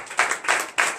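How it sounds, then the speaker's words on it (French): A church congregation claps during a morning prayer service in Benin, coming as three short, sharp bursts of clapping close by. "donnez l'acclamation à Jésus"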